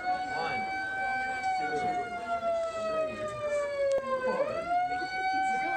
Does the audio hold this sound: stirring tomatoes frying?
no